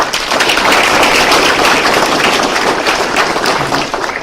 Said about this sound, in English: I think they deserve one more round of applause.